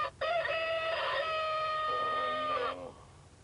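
A rooster crowing used as an alarm clock: one long, loud, close cock-a-doodle-doo of bright harmonic notes that falls away in pitch toward the end, heard alone.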